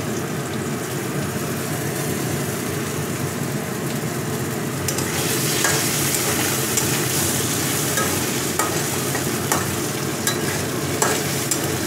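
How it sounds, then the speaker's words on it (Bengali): Potatoes go one by one into a hot wok of oil after fish has been fried, giving a steady close sizzle that swells louder and busier partway through, with occasional crackles. "এবার একটা একটা করে আলু আমি কড়াইতে দিয়ে দেবো"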